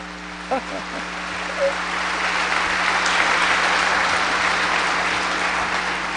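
Audience applause at a lecture for innovative venture business owners, a broad steady patter of clapping that swells after a brief voice at the start and holds loud and even to the end.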